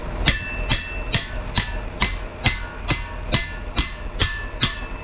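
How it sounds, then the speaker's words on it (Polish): Heavy hammer blows striking a stuck steel harrow in a steady rhythm, about eleven ringing clanks spaced roughly half a second apart, close and loud. "trzeba walić ostro młotem, bo to praktycznie w ogóle nie chce się ruszać"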